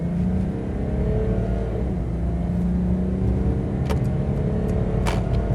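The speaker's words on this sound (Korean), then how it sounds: "잘 들어보세요. 풀가속." A Mercedes-Benz S-Class diesel engine roars steadily at full throttle, a loud continuous diesel drone with a couple of brief higher-pitched clicks near the end.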